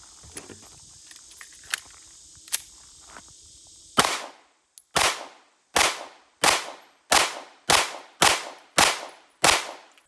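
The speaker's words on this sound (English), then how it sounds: "So we can go ahead and throw that back in the gun and it'll fire." Sig P365 pistol firing at an outdoor range: about nine sharp, loud shots in a steady, evenly spaced rhythm, each with a quick echoing decay, following a few seconds of quiet handling clicks.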